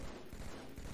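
Rapid gunfire in a competitive video game match, a dense one-second volley of shots over a busy game background.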